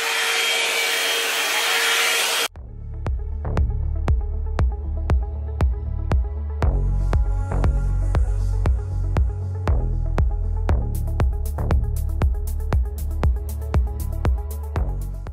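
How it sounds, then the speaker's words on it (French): A hair styling appliance used during a glueless wig install: a loud, steady high-pitched whirring blow for over two seconds, then a rhythmic series of sharp pulsing clicks repeating about every half second. "Le seul bémol en fait de cet appareil là, c'est que il fait quand même un peu de bruit."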